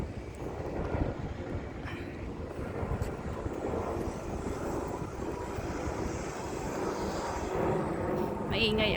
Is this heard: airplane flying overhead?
yes